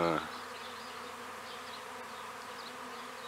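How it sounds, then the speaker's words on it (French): A honeybee swarm buzzes outside the hive in a dense, continuous drone after a brief voice at the start, the hum steady and close throughout. "Là, il y a un bel essaim encore."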